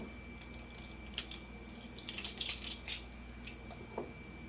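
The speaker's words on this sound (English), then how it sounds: "And get my little measuring spoons." Small metal measuring spoons clink and tap lightly in a kitchen while homemade mustard is prepared; a few faint scattered clicks rise over a steady low background hum.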